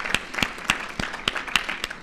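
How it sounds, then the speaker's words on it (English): Audience applause comes as sparse, sharp claps spaced at fairly even intervals, sounding close and distinct rather than a full, dense ovation. "I first want to ask you all to give yourselves a round of applause for being here"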